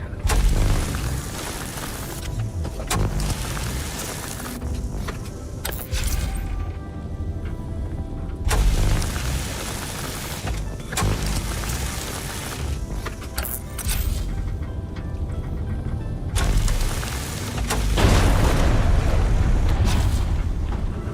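Grenade blasts in the video game Dune Awakening, loud deep booming explosions rolling one after another over a continuous dense rumble of battle, with no pauses between them.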